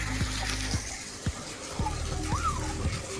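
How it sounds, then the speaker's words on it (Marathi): Borewell water gushes from a motor-pumped pipe on a farm, a steady rushing pour heard close up with a low pump hum and intermittent thuds, while someone talks over it. "बोरचं पाणी पडतंय मित्रांनो, इथं आपलं बोरचं पाणी चालू आहे."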